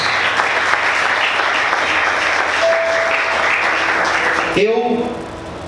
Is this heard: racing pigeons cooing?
no